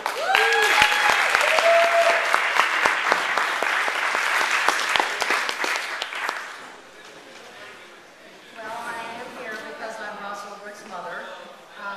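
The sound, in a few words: audience applause for Lyn Ulbricht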